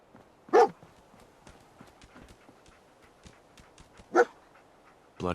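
Dogmeat the dog in Fallout 4, giving a few short whimpers or barks spaced apart over faint footstep-like taps and quiet game ambience.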